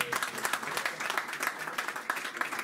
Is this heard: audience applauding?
yes